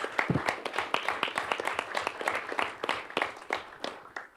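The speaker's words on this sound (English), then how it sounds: "just a round of applause for them and all the hard work they've done leading up to this" Applause for student government members at a university senate meeting, a steady patter of many hands clapping close by with sharp individual claps throughout, fading slightly near the end.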